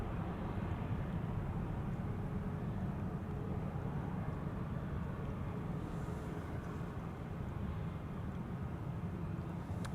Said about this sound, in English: 747 in the background, approaching center